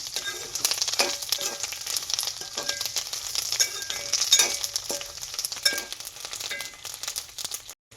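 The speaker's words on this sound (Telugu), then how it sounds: "మిరపకాయలు అయితే వేగిపోయినాయి" Dried red chillies fry in oil in a pan for gongura chutney, a steady close sizzle with stirring scrapes and crackling pops throughout.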